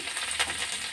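Snack ingredients, including chickpeas, fry in a small amount of oil over a low flame, producing a steady, close crackling sizzle with a slightly louder burst midway.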